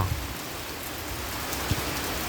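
Early-morning rain falls steadily on surfaces, a continuous moderate patter with a few louder drops, heard alone without voices.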